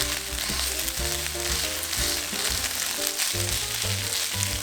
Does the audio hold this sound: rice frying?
yes